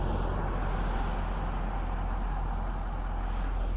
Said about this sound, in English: We can hear the cars before we see them